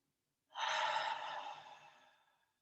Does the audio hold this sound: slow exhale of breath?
yes